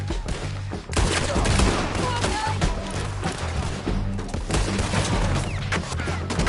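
Dense, sustained gunfire from a Red Dead Redemption 2 shootout, with overlapping shots and booming reports cracking almost nonstop for several seconds, loud and close, with low rumbling underneath.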